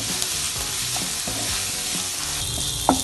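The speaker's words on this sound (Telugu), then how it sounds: "ఈ ఉల్లిపాయలని ఇప్పుడు కొంచెం బ్రౌన్ కలర్ వచ్చే వరకు వేయించుకుందాము." Chopped onions frying in hot oil in a pan for a bitter gourd fry, a steady close sizzle with occasional stirring scrapes and one sharper clink near the end, no voices.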